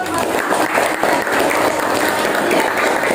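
An audience claps steadily after a presentation, a dense, even applause that fills the short moment without pause.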